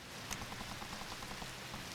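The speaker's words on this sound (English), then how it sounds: "The rain came down." Rain falls steadily on roofs, a soft, dense hiss with scattered drop patter, even and unbroken throughout.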